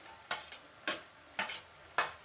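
Tomato gojju is stirred in a pan, four evenly spaced scraping strokes of a spoon about half a second apart, close and quiet with faint sizzling between them.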